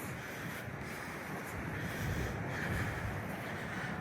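Wind blows steadily on an open ocean beach on Hatteras Island, a continuous low rumble of gusts buffeting the microphone with soft surf beneath, no voices.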